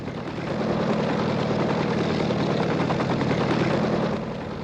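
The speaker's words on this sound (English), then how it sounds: "Helicopter coming into Waterloo Air Terminal." A helicopter coming into a city heliport, steady rotor chop and engine drone, loud and continuous, holding close overhead without any voices.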